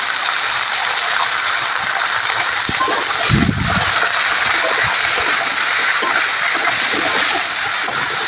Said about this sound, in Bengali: সবজিগুলোকে দিয়ে দেবো তেলের মধ্যে পরিমাণ মতো লবণ দিয়ে দেবো